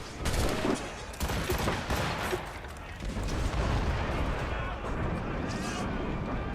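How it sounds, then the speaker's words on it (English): Rapid volleys from a Puckle gun, a hand-cranked naval repeating gun, fired during a ship boarding in Assassin's Creed Rogue: dense, loud bursts of gunfire with booming impacts that roll on continuously, mixed with game battle noise. "let's get him with the puckle gun"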